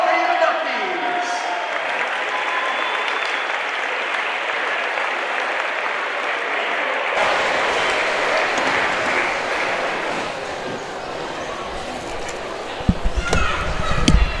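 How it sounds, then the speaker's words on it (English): A basketball gym crowd at a Muscatine High School game claps for nine Athletic Hall of Fame inductees, a sustained dense wash of applause that swells midway, with an announcer's voice over it and a few sharp thumps near the end. "let's have another round of applause for all 9 of our Muscatine High School Athletic Hall of Fame inductees"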